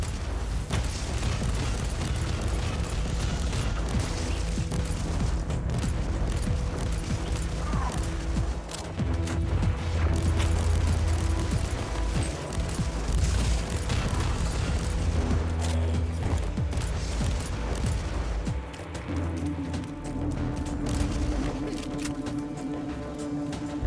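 Gunfire and explosions in the video game Inquisitor Martyr, with dense rattling shots, booms and mechanical clanks layered over a continuous droning game score at steady loudness.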